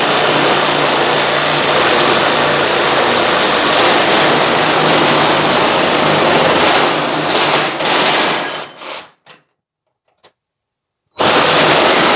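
A reciprocating saw rips loudly and steadily through an old setup on a T-bucket hot rod for about eight seconds. It then sputters and cuts out into brief silence before roaring back in.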